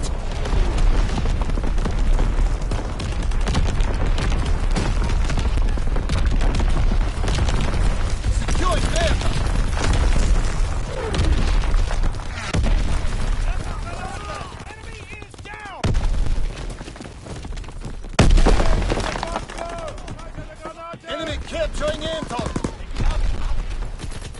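Artillery barrage explosions mixed with rolling gunfire in a WW2 shooter, a dense, continuous roar of blasts and shots with brief drops, voices talking over the din.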